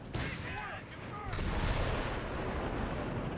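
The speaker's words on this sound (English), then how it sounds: "Where's this guy barraging? Is he barraging the base?" An artillery barrage in the Company of Heroes 3 strategy game, with a dense rumbling roll of distant shell impacts and booms layered over one another, continuous and moderately loud.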